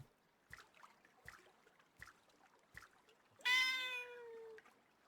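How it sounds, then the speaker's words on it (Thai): A cat in the video game Popoposan lets out one clear, drawn-out meow near the end, after several faint soft ticks or steps spaced evenly over a quiet background. "น้องเหมียวอยู่นี่"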